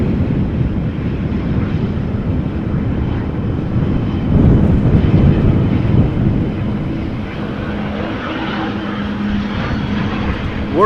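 A steady, loud roar of aircraft engines at Amsterdam Schiphol Airport during a storm, swelling slightly midway, with gusty wind noise over the microphone and no voices.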